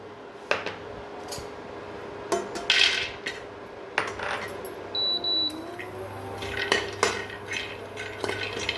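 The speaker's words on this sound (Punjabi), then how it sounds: "ਇਹਦੇ ਜਿਹੜਾ ਬਦਾਮ ਉਹਨੂੰ ਆਪਾਂ ਡਰਾਈ ਰੋਸਟ ਕਰ ਲਾਂਗੇ" Almonds dry roasted in a pan, with metallic scraping and stirring clinks from a utensil against the pan, close and fairly loud in irregular bursts, and faint background hum.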